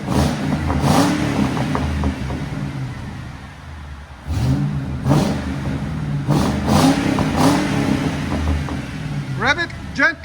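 A 2008 Ford Crown Victoria Police Interceptor with a 4.6L V8 and Carven TR-Series muffler revs through its exhaust in a deep, rumbling series of throttle blips close by, with people talking over parts of it.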